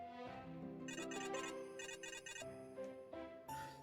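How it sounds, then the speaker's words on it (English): A telephone gives off an odd, warbling ring: a run of bright, repeating electronic trill bursts over sustained tones, loud and close, with no one speaking. "Suddenly, the phone emits a strange ring."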